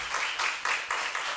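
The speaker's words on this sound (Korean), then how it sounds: "우리 하나님께 다시 한번 큰 박수를 올립시다." Congregation applauding at a church revival service, a short burst of steady clapping with rhythmic swells, fairly close and continuous with no speech over it.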